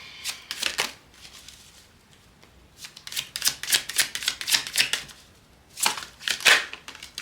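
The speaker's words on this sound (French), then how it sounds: "J'aimerais tirer une autre carte de tarot." Tarot cards being shuffled and drawn make close, crisp riffling bursts in several separate rounds with quiet pauses between them, each a quick flurry of papery flicks.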